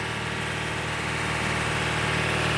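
A car engine idles steadily during an oil system flush with flushing oil, giving a constant, even hum with a faint low vibration and no talking.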